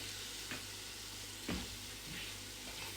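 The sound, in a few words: garlic frying in hot oil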